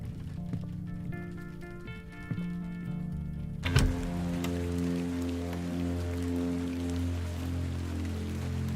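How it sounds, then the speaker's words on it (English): Steady rain falls outside in an adventure game, a dense soft patter with a low rumble beneath, joined after a few seconds by a sharp knock and a fuller, louder wash of rain. "I can see it's still raining out there."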